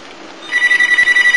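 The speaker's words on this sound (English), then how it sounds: "Ah, damn, that's my phone." A telephone rings with a rapid warbling electronic trill that starts abruptly after a brief quiet moment and continues loud and close, repeating in quick pulses.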